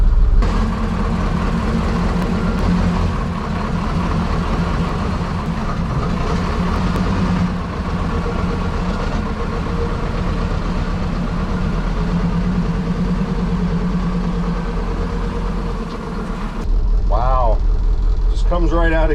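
A dump truck's engine runs at a steady idle-like drone as the clutch is let out, the rumble shifting near the end, with someone talking throughout.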